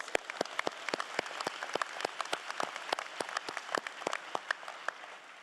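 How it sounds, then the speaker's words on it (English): The 2022 graduating class at a convocation ceremony claps in a moderately sized, uneven round of applause, with individual sharp hand claps standing out clearly over a softer background patter. "Give yourselves a round of applause"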